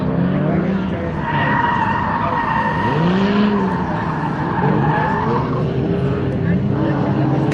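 Drift car at a speedway event spinning out, tires skidding and squealing loudly with engine roar, over constant crowd and track noise; people talk nearby.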